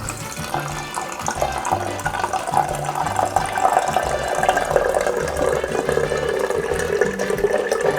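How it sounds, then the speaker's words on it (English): Water is poured into a glass jar packed with fermenting hot sauce ingredients, giving a steady close splashing and trickling fill that runs continuously with faint rattling underneath. "So I'm gonna pour this water into this jar."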